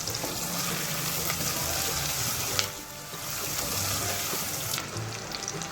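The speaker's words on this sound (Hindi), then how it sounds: "एक चम्मच भरकर लहसुन अदरक का पेस्ट ऐड करेंगे। मिक्स करेंगे।" Garlic ginger paste sizzles steadily in a hot pan and is stirred for a tinda sabji. A close, continuous frying hiss carries light scraping strokes from the spoon, and no voice is heard.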